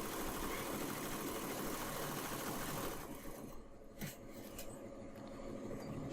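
Embroidery machine stitching a flower pattern, giving a steady, dense mechanical whirr with rapid needle rubbing throughout, a little quieter in the second half.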